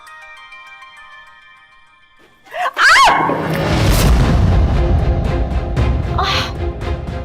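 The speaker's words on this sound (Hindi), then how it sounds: "इस वक्त किसका फोन आ गया?" A melodic phone ringtone starts quietly, then jumps to a loud, bright tune that keeps playing close by.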